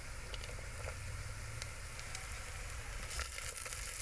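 Green peas frying in a clay pot: a soft, steady sizzle with light crackling and a brief louder stir near the end, close but faint, no talking.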